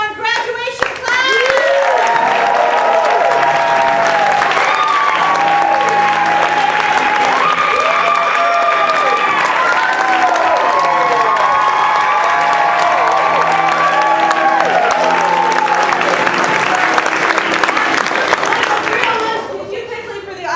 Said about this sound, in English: give a huge round of applause for the Improv 301 graduation class!